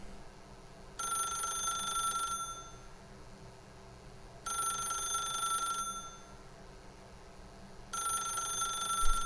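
Telephone ringing in The Stanley Parable video game: three loud, bright electronic rings, each lasting over a second, separated by even pauses.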